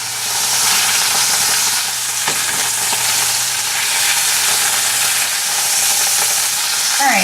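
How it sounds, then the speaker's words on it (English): Beef pot roast browning in a hot pan gives a steady, close sizzle and frying crackle throughout, fairly loud and continuous, with a faint low hum underneath and no talking. "now you can probably start to hear it sizzle just a little bit"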